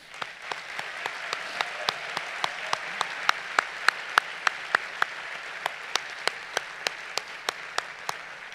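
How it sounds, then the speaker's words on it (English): A commencement audience at a Babson College graduate ceremony applauding, a sustained even wash of clapping with sharp regular ticks running through it, moderately loud and far. "Please join me in a moment of applause to recognize and thank those who"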